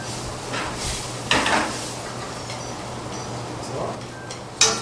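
Pasta sauce simmering in a pan while being stirred gently at a cooking class, soft scraping strokes over a faint steady sizzle, with a couple of sharper clinks of utensil on pan.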